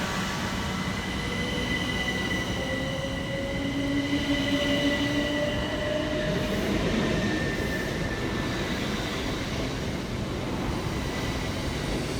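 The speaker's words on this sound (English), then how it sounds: "Next to depart from the station is 377430 and 377433, working the 1635 Southern service from London Victoria through to London Bridge." A Southern Class 377 electric train, two units coupled, pulls out of New Cross Gate station with a loud, continuous rumble of wheels on track and rising tonal motor whine and wheel squeal, heard up close without any voices.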